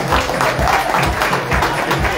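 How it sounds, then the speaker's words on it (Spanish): Audience applause for three finalists at a bar competition awards night, a loud, steady patter of many hands clapping with a pulsing rhythm, close and continuous. "Fuerte el aplauso."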